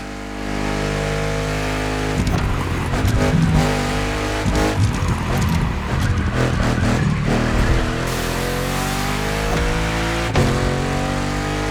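A Citroën GT driven in The Crew Motorfest roars steadily throughout, engine tone climbing and shifting through gears with tyre squeal and skids breaking in around the middle and near the end.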